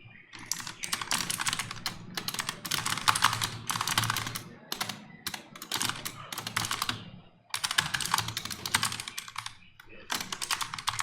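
Fast, uneven typing on a computer keyboard clatters close up in long runs broken by brief pauses, with a voice speaking now and then.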